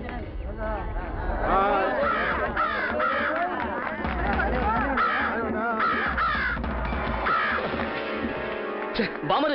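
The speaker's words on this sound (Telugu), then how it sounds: "శంకర్ కాకి ముక్కు ఒకసారి చూడు బామర్ది" Crows caw repeatedly over busy overlapping talk and background bustle, the calls clear but partly buried under the voices.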